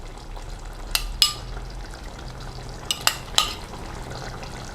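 A vegetable qorma with paneer cooks in a pan and gets stirred, a soft steady sizzle broken by a few sharp spoon scrapes and clinks against the pan.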